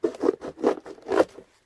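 Cardboard shipping box being cut up, heard as close, rhythmic scraping and ripping strokes, about four quick pulls in a short burst.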